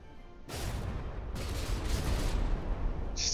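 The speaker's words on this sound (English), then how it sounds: "See that absolute hail of gunfire from the St." A dense rumbling barrage of rapid, overlapping warship gunshots and booms in the video game From the Depths rolls on continuously after a quiet start.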